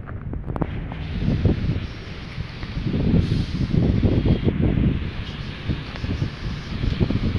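Strong gusty wind at Manila Bay buffets the microphone with low rumbling bursts that rise and fall continuously, with no one speaking.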